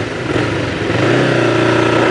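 Motorcycle ridden on roads in South Jersey, its engine droning loud and close with a steady rumble that rises slightly in pitch as it accelerates.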